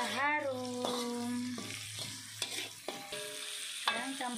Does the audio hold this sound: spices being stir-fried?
yes